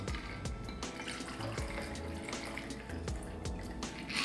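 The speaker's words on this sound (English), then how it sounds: "Last step is to pour the drink into the martini glass." A lemon drop martini of vodka, triple sec and simple syrup pours into a sugar-rimmed martini glass, a steady liquid splash lasting several seconds, close and clear with no talk.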